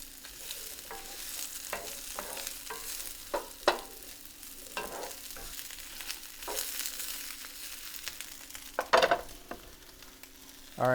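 Garlic cloves and a whole large onion cook in a pot with a low, steady sizzle, broken by scattered clinks and scrapes of a utensil stirring, with one louder burst of clatter near the end.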